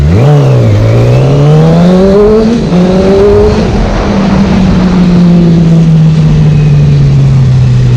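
A Yamaha R6 sport motorcycle's engine while riding, loud and close, pitch rising and falling through high revs and gear changes with a continuous screaming tone.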